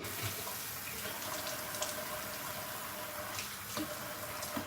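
Warm water runs from a bathroom tap during a shave, a steady even gush of close splashing water that continues without pause and has no talk over it.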